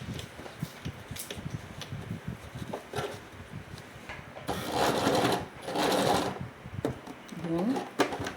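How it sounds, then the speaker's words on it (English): A sewing machine stitches a zipper into a pencil skirt, its motor whirring in two sustained loud bursts with quieter handling, clicks and light talk between runs. "Then I will continue sewing"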